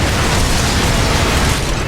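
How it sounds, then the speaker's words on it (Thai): Loud, dense explosion blast in the video game Earth Defense Force 4.1, a continuous roaring burst of noise lasting nearly two seconds with no talk over it. "ระเบิดวะ"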